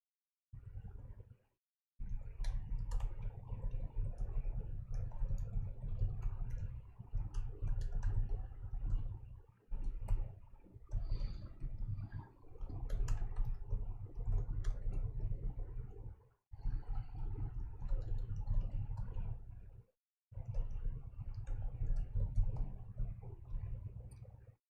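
Steady computer keyboard typing in bursts of clicking keystrokes, close and moderately loud, broken by a few short pauses.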